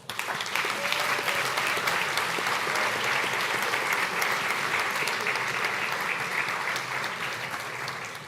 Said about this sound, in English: A round of applause for our CSUD graduates.